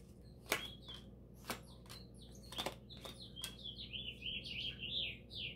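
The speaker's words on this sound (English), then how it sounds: "those birds are loud" Loud birds outside give sharp, separate chirps and clicks, then break into a rapid warbling run near the end. The calls are clear against a quiet background with no talking.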